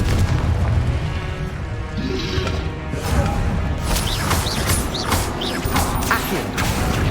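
A Confringo blast spell fired in the Hogwarts Legacy game sets off heavy booming, crashing and creaking debris in a dense, loud roar. Several short whooshing bursts follow later.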